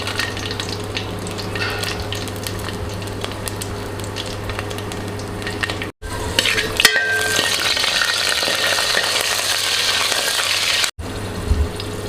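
Garlic, curry leaves and dried chillies frying in oil for a fish curry, a loud, steady, close sizzle with a low hum beneath and occasional brief cuts in the sound.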